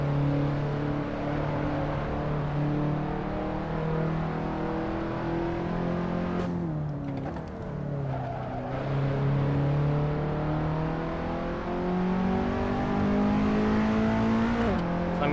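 A race car lapping the Sebring circuit in the Assetto Corsa driving game, a steady engine drone that rises and falls through gear changes, with a brief dip and pause midway before climbing again.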